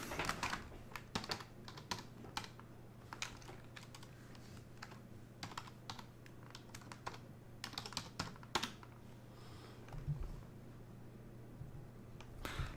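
Rapid, irregular clatter of keys being typed on a computer keyboard, close and fairly quiet over a steady low hum, continuing in uneven bursts throughout.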